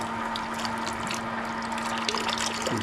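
Water and vinegar draining out of a tankless water heater during a flush, a steady close liquid flow with a faint pump hum, running alone without talk.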